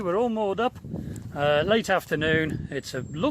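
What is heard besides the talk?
No distinct noise like a dog, phone or traffic.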